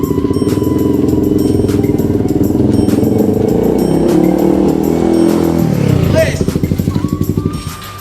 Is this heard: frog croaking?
no